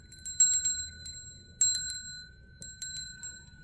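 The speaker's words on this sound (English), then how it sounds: "Actually, enough with the bell" Bright metallic bell rung in three separate bursts during a Reiki ASMR cord-cutting session, each burst a cluster of quick ringing strikes with sustained shimmering tones over a low, quiet background hum, close and alone.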